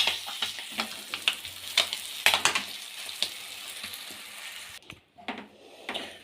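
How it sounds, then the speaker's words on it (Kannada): Eggs fry in a pan for an egg masala, a steady soft sizzle broken by sharp spatula taps and scrapes, with a brief quieter gap near the end before the crackle returns. "ಒಂದು ನಿಮಿಷ 2 ಸೈಡ್ ಫ್ರೈ ಮಾಡಾಗಿದೆ."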